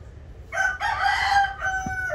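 A rooster crows once, close and loud, a drawn-out call that rises and then trails off, with faint background noise.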